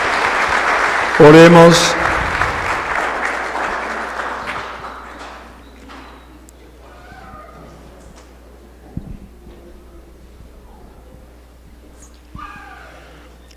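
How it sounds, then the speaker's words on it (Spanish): A church congregation claps during Christmas Eve Mass, a short, loud burst near the start that quickly fades. A priest then speaks over a quiet, reverberant room. "Les damos un fuerte aplauso"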